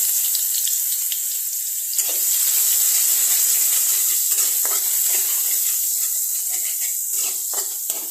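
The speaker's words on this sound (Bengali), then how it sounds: "পেঁয়াজটা কালারটা চেঞ্জ হওয়া পর্যন্ত এটাকে একটু ফ্রাই করতে থাকবো" Chopped onion frying in a small amount of oil in a wok after fish was fried, giving a steady close hiss and sizzle that swells after the first two seconds, with occasional faint crackles.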